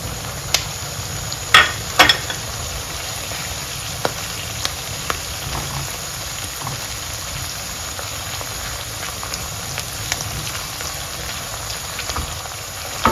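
Blended ginger and garlic fry in hot oil with a steady, even sizzle that runs throughout, broken by a few scattered light clicks and pops, close and fairly loud.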